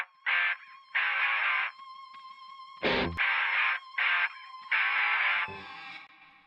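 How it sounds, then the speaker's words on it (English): Electric guitar through a telephone effect preset, a thin, band-limited tone in short bursts of chords and notes with gaps between, including a couple of sharper percussive strums, heard alone. "So they are getting this little telephone effect that's happening in the intro"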